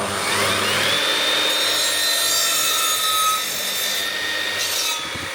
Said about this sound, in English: With all that measured, let's get some timber cut down.